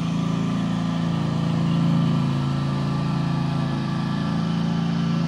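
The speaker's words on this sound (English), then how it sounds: "People with lawnmowers cutting the grass in the neighborhood." Lawnmowers cutting grass around the neighborhood give a continuous low engine drone with a steady rumble, fairly loud and constant throughout with no voices.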